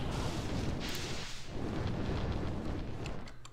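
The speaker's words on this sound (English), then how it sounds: "It's like a localized fire wave." A localized fire wave spell roars in Median XL, a Diablo II mod, as a dense, loud rumbling whoosh of flame with crackling, sustained for several seconds.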